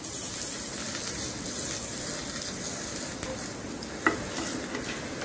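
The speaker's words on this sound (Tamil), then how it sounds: "போட்டு லைட்டாக வறுத்துக்கணும்." Urad dal and chana dal fry lightly in hot oil, giving a soft, steady sizzle with occasional stirring scrapes and one brief clink, fairly quiet and with no talk over it.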